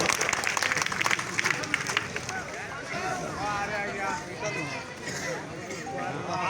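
Audience at a Sambalpuri poetry gathering clapping to welcome a poet, a dense, steady wash of applause that is loudest at the start and then continues under talk and wind noise.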